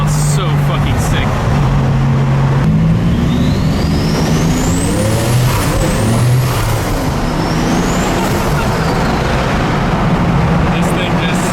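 A V12-swapped Toyota Supra roars from inside the cabin, the engine rising in pitch through gears as the tires spin and slide, loud and close, with occasional talk from the occupants.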